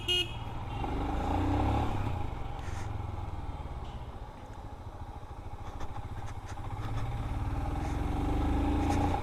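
A Royal Enfield Himalayan Scram 411 motorcycle's engine runs close by, rising and falling as it is revved, with a steady low rumble that dips briefly midway and then builds again.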